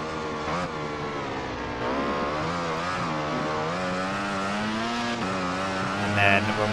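A Ducati motorcycle engine in the racing game MotoGP 15 drones loudly and continuously, its pitch rising and falling as the bike accelerates and shifts through a lap.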